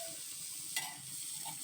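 Oil heating in a kadai for tempering before frying eggs for a dhaba-style egg masala gives off a steady, soft hiss, with one brief sharp crackle partway through.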